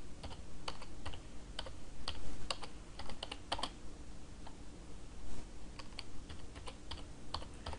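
Typing on a computer keyboard while entering a siding name, a quiet series of crisp key clicks in irregular bursts, close and alone with no talk.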